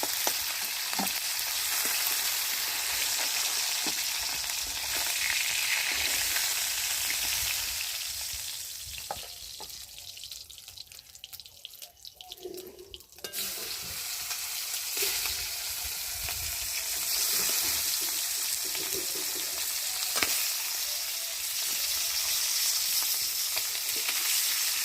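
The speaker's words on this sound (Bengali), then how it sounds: "এরকম একটু মাথাগুলোকে ভেজে নেবো।" Fish heads frying in a hot pan, a continuous loud sizzle with stirring and scraping, a brief quieter stretch in the middle, then the full crackle returns.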